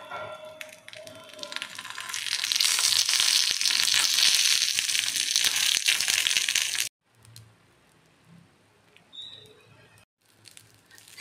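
Gujarati panki batter cooking between leaves with oil drizzled on, a steady close sizzle and crackle that runs for several seconds, then cuts out to quiet with faint scattered pops.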